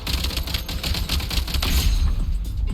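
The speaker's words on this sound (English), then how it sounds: "Bro, can we explore with the gun like this?" Rapid gunfire from a weapon in a video game, a dense run of sharp shots and crackling impacts that keeps going loud and steady for the whole stretch with no talking.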